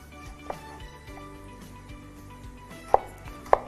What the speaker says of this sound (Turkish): Yemeklik doğrayacağım yani öyle diyebiliriz.